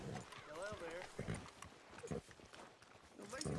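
Horse in Red Dead Redemption 2 with hooves clip-clopping in irregular thuds alongside whinny-like tonal calls, moderately close, with voices talking over it.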